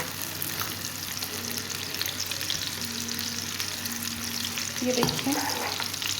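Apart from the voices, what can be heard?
onions frying in oil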